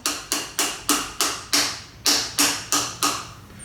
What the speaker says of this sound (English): I am going to take the hammer, I'm gonna tap this down,